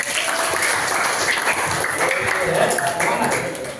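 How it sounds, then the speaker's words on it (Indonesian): A crowd applauds steadily throughout, a dense wash of clapping that stays even in loudness. "Tepuk tangan untuk kita semua."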